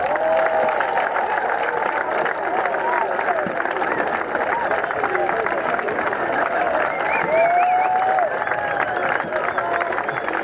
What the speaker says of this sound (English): Please keep the applause going as we welcome out Morriston Rugby Male Voice Choir.